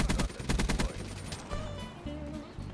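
Rapid automatic gunfire from a gun in Call of Duty: Black Ops 3, a fast burst of close, loud shots in the first second followed by scattered shorter bursts and game effects, with no talking.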